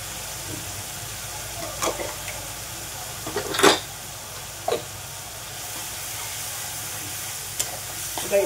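Turmeric and chilli powder frying in a pan for pav bhaji, a close, continuous low sizzle broken by several sharp spatula scrapes and clinks against the pan.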